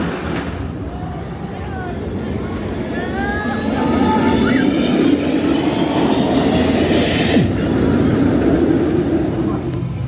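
Nemesis Reborn roller coaster train at Alton Towers rolls and rumbles in the middle distance, a steady low roar swelling after a few seconds and holding, with faint screeching tones and wind-like outdoor noise around it.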